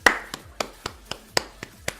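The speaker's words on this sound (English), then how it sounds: "I just need a round of applause. Everybody clap your hands." Eight sharp, evenly spaced hand claps, close and loud, each one a crisp percussive snap over about two seconds with no other sound.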